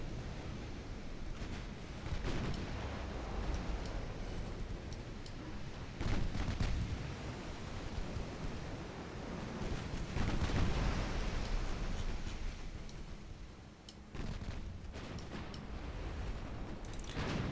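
Ship guns in a naval warfare game boom and thud repeatedly amid a dense rumbling battle din, with heavy blasts recurring every few seconds and no talking.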